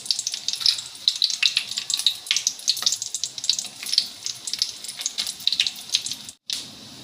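Mustard seeds and cumin dropped into hot oil crackle and sizzle close by, a busy spitting hiss with irregular pops, briefly cut off near the end before resuming.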